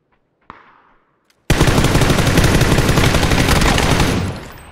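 Gunfire hitting the player in PUBG: a single sharp shot and a faint click, then a loud, sustained stream of rapid automatic fire lasting several seconds before fading, close and dominant with no voices.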